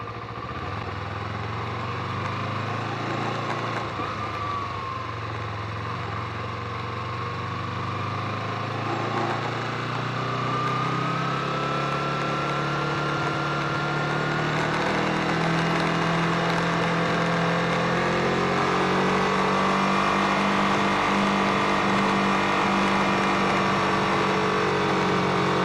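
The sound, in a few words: Kawasaki Ninja 250 motorcycle accelerating in first gear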